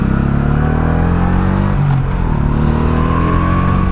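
A 1984 Honda Shadow VT700C V-twin motorcycle pulls hard in first gear from the rider's position, its loud, close engine note climbing steadily in pitch, briefly dipping at a shift point, then rising again.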